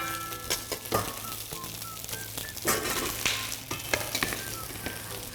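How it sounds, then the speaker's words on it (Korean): Onions and carrots stir-fry in hot oil, giving a steady close sizzle broken by scraping stirs and a few sharp clacks of a utensil against the pan, with no voices. "양파가 어느 정도 볶아지고 나면 당근을 볶아줄 거예요"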